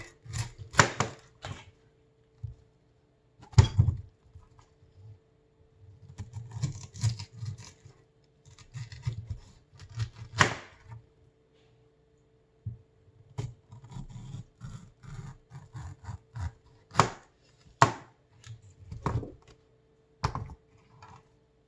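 A knife cuts the core out of a pink pineapple on a board, with sparse close taps and crunching chops in irregular bursts and quiet pauses between them.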